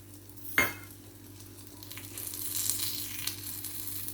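Kuzhi paniyaram fry in a pan as they are turned, with a sharp metal clink near the start followed by a soft, close sizzle and stirring scrapes that swell slightly later on.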